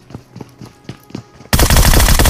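Gunfire from a pre-fire at a door in BGMI. A few spaced single shots come first, then a loud, sustained rapid burst of automatic fire up close.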